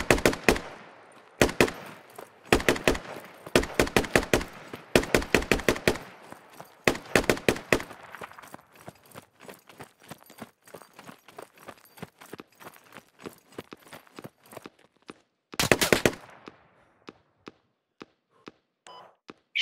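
Suppressing machine-gun fire in the video game Squad, with several loud bursts of rapid shots up front, then a long stretch of fainter, sparser single cracks and one more loud burst near the end.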